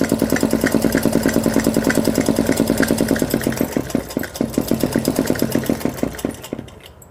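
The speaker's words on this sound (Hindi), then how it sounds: "इस पर हम मोटी सिलाई कर देंगे यानी कि बड़ी सिलाई" A sewing machine stitches a wide seam on a ladies' suit, giving a loud, close, rapid and evenly rhythmic mechanical thumping that runs steadily before stopping at the end, with no talk.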